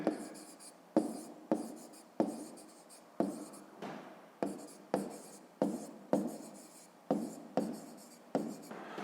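A pen writes a maths solution for a fifth-grade exercise on polygons, producing about a dozen close, regular scratchy strokes, each starting sharply and fading, in a quiet room with no voices.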